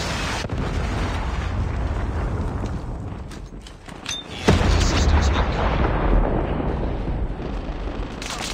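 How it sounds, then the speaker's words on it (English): A predator missile explosion in Call of Duty Mobile on the Raid Holiday map, a loud boom that hits around the midpoint over constant dense game noise and rumble, followed by a sustained roar. "Friendly predator missile inbound."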